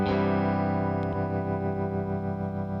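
An electric guitar played through a cranked 5E3 Tweed Deluxe amp sounds one thick, overdriven chord that rings on and slowly decays, loud and close, with no talking.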